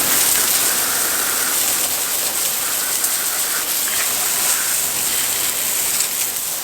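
Water spray rinsing dirt and brake dust off a car tire, a steady loud hissing gush that runs unbroken throughout, with no voices.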